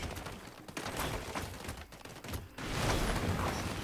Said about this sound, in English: I hear a warlock shooting, but where?